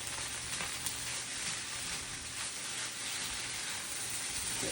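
Fried rice with green onions sizzles steadily in a hot pan, a dense, continuous crackling hiss up close with light stirring scrapes and no talking.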